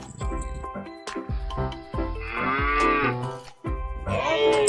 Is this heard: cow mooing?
yes